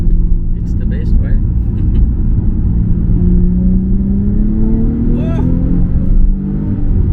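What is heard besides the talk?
Nissan 350Z HR engine revving with downshifts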